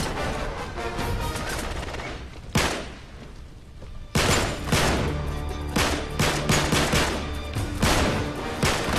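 Rapid bursts of gunfire in Uncharted 3: Drake's Deception, loud and sustained with brief pauses, layered over a dense in-game soundscape.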